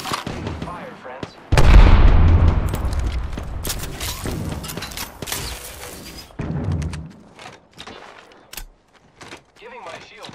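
An Arc Star grenade goes off in Apex Legends with a sudden loud blast, followed by crackling bursts and mixed gunfire. Sharp shots and clatter trail off afterward.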